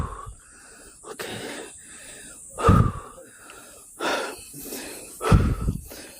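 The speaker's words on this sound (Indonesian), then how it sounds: "Ngos-ngosan tadi." Heavy, labored panting from a hiker after climbing a steep mountain trail in Java, a run of loud, close breaths and gasps coming in uneven bursts with no talking.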